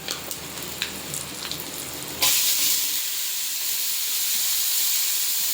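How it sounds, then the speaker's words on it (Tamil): Curry leaves and spices hit hot oil for tempering and burst into a loud, close sizzle that holds as a steady bright hiss after a few seconds of quieter crackling. "கருவேப்பிலையும் போட்டு நம்ம தாளிக்க போகிறோம்"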